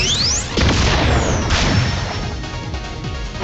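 A Supreme Cannon attack in a Digimon video game sounds off as a loud, booming explosion that hits in quick repeated blasts with crashing impacts and a sweeping tone, then trails off.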